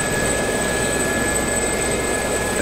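A helicopter flies in a DCS World flight-combat game replay, its rotor and engine making a steady, loud, unbroken drone that fills the whole moment with no voices.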